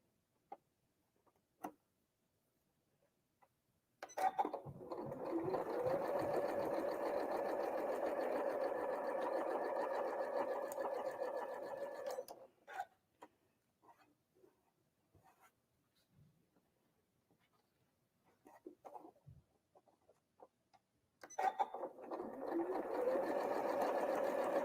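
A sewing machine stitches a Diamond Star quilt block in two long, steady whirring runs separated by a quiet pause filled with small clicks and handling sounds, with a final burst starting near the end.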